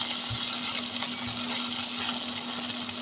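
Taki fish (spotted snakehead) fries in a pan for a vorta with onion stalks, giving a steady, even sizzling hiss throughout with a couple of faint low bumps and no talking.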